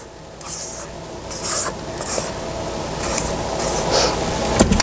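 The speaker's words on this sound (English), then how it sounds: "I'm going to scrape the sides of the bowl down." A spatula scrapes the sides of a mixing bowl of cake batter in repeated short, soft rubbing strokes, close by and steady, with no voices.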